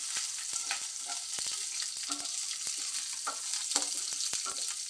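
Small sambar onions frying in a pan for palak sambar, a steady close sizzle broken by sharp scraping clicks of stirring at irregular intervals.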